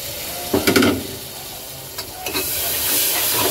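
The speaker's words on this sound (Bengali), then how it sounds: "মশলা ভাজা ভাজা হয়ে এসছে" Spices for a mutton curry sizzle and hiss in a hot pan, with a louder burst of frying and stirring near the start, then a steady close-up sizzle.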